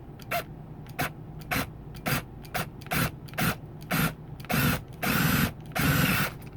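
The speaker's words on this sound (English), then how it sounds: "I'm going to drill a 1/2-inch hole in the center here" A hand drill bores a half-inch hole through a 3-inch piece, with no drill press used. Repeated short grinding bursts come in an even rhythm, growing longer and louder toward the end, close and alone.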